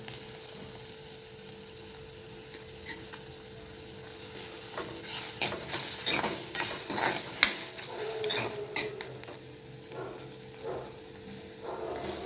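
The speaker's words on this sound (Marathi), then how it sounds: "आता ह्या सगळ्या भाज्या आपण एक एक करून त्याच्यामध्ये टाकूयात तर शिमला मिरची टाकून घेते" Capsicum and other vegetables tipped one by one into a hot pan for an oats dish and stirred, giving a run of close scraping, clattering utensil strokes and light sizzling after a quieter start, with no talk.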